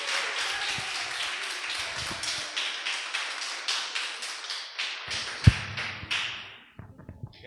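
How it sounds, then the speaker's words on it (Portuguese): A church congregation applauds for Jesus in a dense, steady wash of clapping with rhythmic pulses, tapering off near the end with a few last claps. "Dê uma linda salva de palmas a Jesus"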